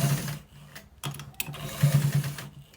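A sewing machine stitches a drawstring into a trouser waistband, its motor whirring nearby in short uneven bursts with a couple of sharp clicks in between.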